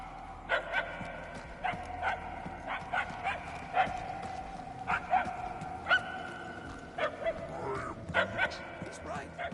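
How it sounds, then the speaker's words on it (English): A dog barks repeatedly in Guardians of the Galaxy, sharp yaps coming in irregular bursts through echoing halls, moderately loud over a low background hum. "Barking is getting fainter."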